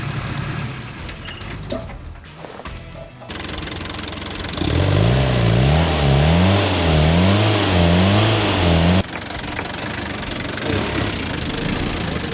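An old Daihatsu Scat 4x4, revived after sitting 15 years, revs its engine in repeated rising and falling surges for several seconds, loud and close, with rough idling before and after.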